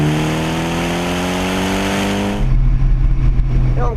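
A tuned 2013 Mitsubishi Evo X engine while driving, loud and close, with a steady droning tone that drops off sharply partway through into a lower, rougher rumble.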